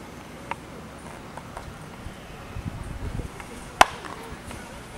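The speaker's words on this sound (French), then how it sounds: "Je vais vous montrer qu'est-ce que ça donne avec un bat en bois." A sharp, solid crack of a wooden baseball bat striking a ball, heard once near the end over low outdoor rustle and wind, with a few faint taps earlier.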